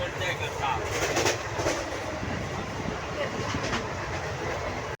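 Steady rumble and rattling clatter of wheels on track from inside a moving express train, constant and fairly loud, with faint background voices mixed into the carriage noise.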